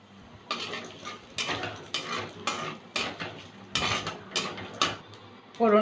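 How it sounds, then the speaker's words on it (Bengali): Bay leaves, dried red chillies, whole garam masala and white cumin seeds crackle in hot oil in a pan, stirred with a metal utensil that scrapes and clinks in repeated bursts, close and fairly loud. "ফোড়নটা ভেজে নিয়েছি"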